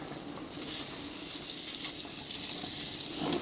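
Picanha steak searing on a Schwank Raging Bull infrared grill, a faint steady sizzle with a soft hiss and no distinct pops.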